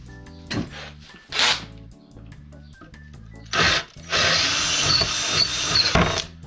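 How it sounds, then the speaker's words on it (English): A bigger power drill whirs in a continuous burst of a few seconds while working on an old shelf, coming after short scraping and handling knocks nearby. "Bigger drill."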